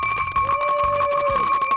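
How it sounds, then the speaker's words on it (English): A hand bell rung right into a microphone to open an evening food market, sounding as a loud, continuous metallic clang with sustained ringing overtones for nearly two seconds over crowd noise. "ring the bell into the microphone to start the market"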